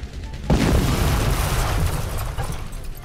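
A sticky bomb exploding in a video game after being shot, one sudden heavy boom that keeps rumbling and crackling as it slowly fades, with faint talk beforehand.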